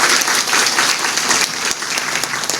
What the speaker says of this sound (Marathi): या 2 रत्नांसाठी एकदा जोरदार टाळ्या होऊन जाऊ द्या